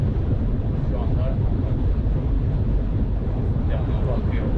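Steady, heavy wind rumble buffets the microphone throughout, a continuous low roar like air rushing past a moving Ford S-Max fitted with a hybrid turbo and large intercooler.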